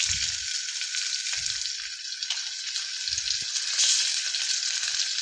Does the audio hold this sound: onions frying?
yes